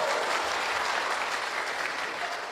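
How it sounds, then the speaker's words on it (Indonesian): A church congregation at a men's Christmas service claps for the men: a thick, even wash of applause from many hands, steady and sustained without breaks. "Tepuk tangan dulu kasih bapak-bapak."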